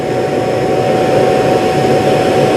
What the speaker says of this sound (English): So there it turned on the vacuum in the base station to empty out the dustbin inside the vacuum.